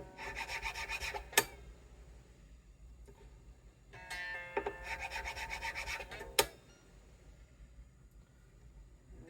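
A file scrapes along the fret ends of a Gretsch Streamliner guitar in two close, rasping bouts of back-and-forth strokes, each ending with a sharp tap, over a quiet background with no speech.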